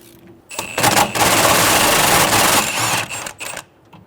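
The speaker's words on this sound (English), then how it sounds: "We're going to remove the 2 bolts out of the rubber isolator next to the motor mount using a 12mm socket." Power tool driving a 12mm socket to remove bolts from the rubber isolator beside the front engine mount of a 2003-2008 Honda Pilot, heard as a loud, close, sustained whirring rattle that lasts about three seconds with brief bursts at each end.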